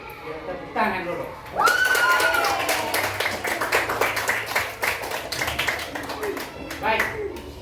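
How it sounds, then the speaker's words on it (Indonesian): Classroom of primary-school pupils clapping hands together in a burst of sharp, fairly close claps over several seconds, with children's voices calling out over the clapping. "Tepuk tangan dulu."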